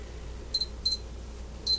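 An old kitchen timer being set and started, giving three short, faint high beeps spaced over a couple of seconds in an otherwise quiet room.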